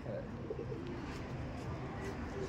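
Soft, low cooing of pigeons repeats steadily against a constant background hum, with no clear speech.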